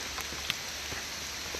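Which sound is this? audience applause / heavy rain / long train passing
heavy rain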